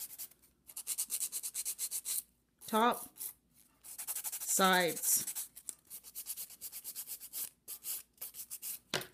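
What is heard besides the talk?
filing an acrylic nail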